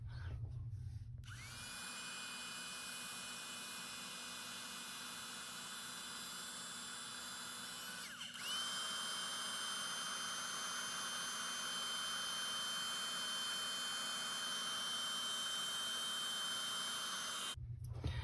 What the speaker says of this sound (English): And then this is my heat gun. I'm going to heat it up, and then I'm going to melt the embossing powder